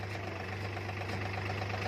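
A farm tractor idles nearby during chickpea threshing work, giving a steady low droning hum with a faint regular knock. It sounds alone and continuous, with no talk.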